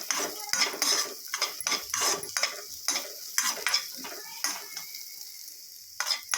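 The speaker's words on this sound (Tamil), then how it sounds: "நம்ம நெய்யில் கொஞ்சம் வறுத்து போடும்போது இன்னும் கொஞ்சம் நல்லா இருக்குங்க" Grated coconut fries in hot ghee for rava laddu while a spoon scrapes and stirs against the pan, giving a soft sizzle broken by irregular metallic scrapes close by.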